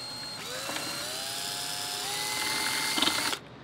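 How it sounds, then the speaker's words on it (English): A power drill whines steadily, its pitch rising as it bites into a metal bracket, then stops abruptly after a few seconds. "we're going to take the bracket back off to drill the holes"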